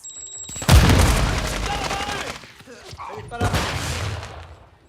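Video game combat with a thrown Semtex grenade: a loud, close explosion boom followed by a rolling burst of gunfire, then a second blast of fire and rumble near the end.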